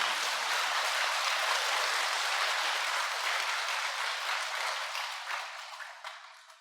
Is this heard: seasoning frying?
no